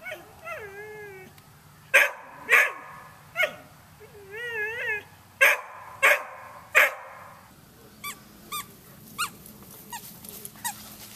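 A poodle puppy lets out sharp, high barks and yips at irregular intervals, mixed with whiny whimpers and small growls, close by in a quiet setting.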